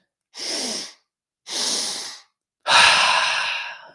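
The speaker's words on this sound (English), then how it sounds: "Let's take 3 more breaths." Deep breathing exercise for mountain athletes: three long, close breaths, each a broad airy rush about a second long with short pauses between, the last one louder and longer, like a full exhale with a sigh.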